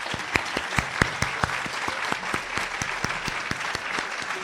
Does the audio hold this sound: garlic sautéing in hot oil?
no